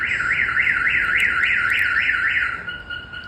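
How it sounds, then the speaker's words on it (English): A Viper 5908v car alarm siren on a Toyota 4Runner wails in rapid rising and falling sweeps, loud and steady, then cuts to a flat tone near the end. "let's say if your alarm is going off"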